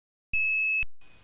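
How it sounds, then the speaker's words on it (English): A steady electronic tone from a computer speaker used for phone phreaking on a telephone line, sounding as one loud unbroken beep of about half a second that stops sharply, then a fainter tone returns over line hiss. "There's your tone."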